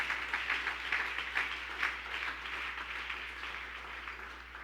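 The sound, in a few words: church congregation applauding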